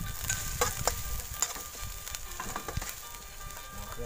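Crocodile meat stir-fried with curry paste in a wok sizzles steadily, with sharp scraping clatters from stirring at an irregular rhythm, close and fairly loud, with no speech.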